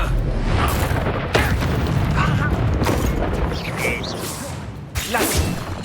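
Repeated Confringo spell blasts from the video game Hogwarts Legacy: loud, dense booming explosions with whooshing bursts, rolling one into the next, while a voice speaks over the action.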